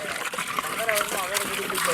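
Water poured into a large pot of chicken biryani, a short splashing trickle heard under a voice speaking.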